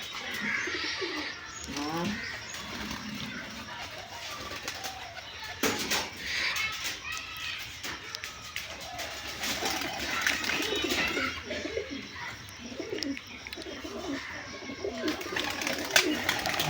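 Giribaz pigeons coo repeatedly in low, rolling calls, several birds at once, with a steady background bustle and some talking.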